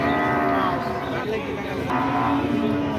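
Cattle mooing loudly and repeatedly at a cattle market in Shahjadpur, Sirajganj, drawn-out low calls over a busy crowd with people talking in the background.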